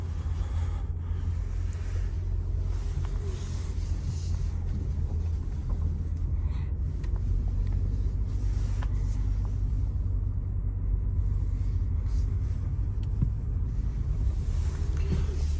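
A BMW M3 G80 with a manual transmission rolls slowly along, its engine a steady, close low rumble that holds for the whole stretch, with faint wind noise.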